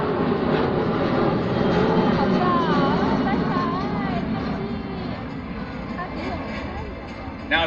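A fixed-wing airplane at an airshow in Maryland makes a slow-speed pass with flaps extended and landing gear down, a steady, fairly loud engine drone that slowly fades as it passes, with no talking.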